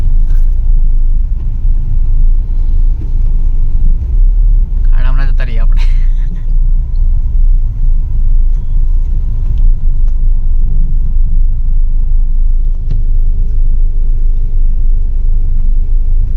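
A car drives in traffic on the Delhi-Bombay expressway with a continuous close road and engine rumble. A short burst of speech sits over the drone near the middle.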